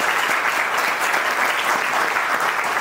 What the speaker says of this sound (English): a huge round of applause for all of you right at the beginning